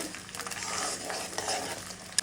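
Whole panch phoron, dried red chilies and whole garlic cloves frying in hot oil for a tangy wood apple pickle, giving a dense, continuous close crackling sizzle with light stirring throughout and a small clink near the end.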